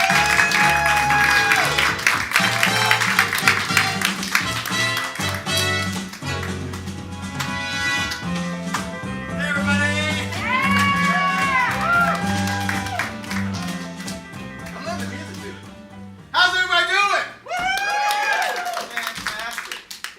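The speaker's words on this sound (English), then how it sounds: "Get your hands clapping. Make some noise for Partners in Crime!" A comedy audience at an improv festival show claps and cheers loudly as an improv duo is introduced, the applause swelling over a strong musical backing with voices and whoops mixed in throughout.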